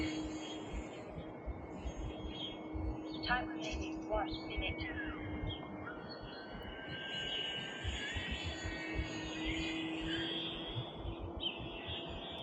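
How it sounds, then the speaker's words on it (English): An E-flite Maule M7 radio-controlled model airplane on a 4S battery with a wooden 10x6 propeller drones steadily overhead with a high buzzing whine that rises and falls as it passes, while a person talks over it. "the Maule M7 is also a really nice plane to fly inverted"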